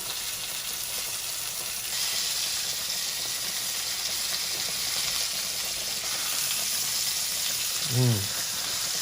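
Country fried steak sizzles steadily in grease in a pot, a continuous close frying hiss throughout with a brief low clunk near the end.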